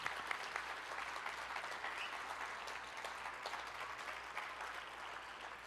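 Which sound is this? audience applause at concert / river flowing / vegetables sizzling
audience applause at concert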